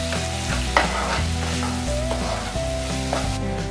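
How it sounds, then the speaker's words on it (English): Ground masala paste sautés in melted ghee in a pan for mushroom masala. The sizzle is loud and close and keeps going, with occasional scrapes and clinks of stirring. "I'm now going to add the ground mixture. And I'm going to saute this for 2 to 3 minutes."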